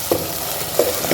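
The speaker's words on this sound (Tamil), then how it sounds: "எண்ணெயிலே கொஞ்சம் நல்லா வதக்கணும்" Potatoes and cabbage sauté in oil for a mixed vegetable poriyal, a short burst of steady frying hiss with two quick stirring scrapes up close.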